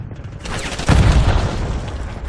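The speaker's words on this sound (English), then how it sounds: "Enemy grenade." A grenade blows up in a multiplayer shooter match, a loud booming blast lands about a second in and rolls off over steady rumbling battle noise, with a faint voice underneath.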